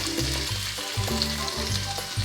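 Crushed ginger, garlic and small shallots sizzle and fry in coconut oil with a bay leaf, a steady close crackle with occasional stirring over about two seconds.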